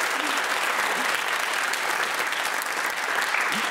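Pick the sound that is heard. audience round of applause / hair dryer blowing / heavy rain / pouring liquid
audience round of applause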